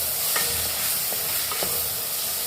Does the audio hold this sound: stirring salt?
yes